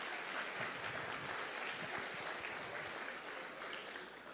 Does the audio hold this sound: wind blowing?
no